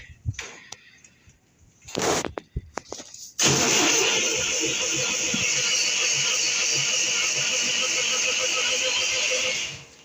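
An MTZ tractor engine cranks in -10 °C frost after a few short starter attempts, then catches and runs loud and steady, rumbling close by with a dense, continuous roar.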